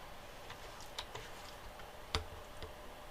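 Soft clicks of typing on a computer keyboard, a handful of sparse keystrokes over a quiet room hiss, faint and close, no voices.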